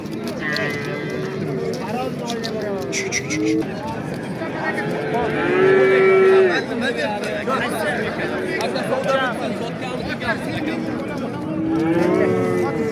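Several cattle moo at intervals amid a busy crowd at the Kattaqo'rg'on livestock market, voices chattering all around and the odd hoof clatter in the mix.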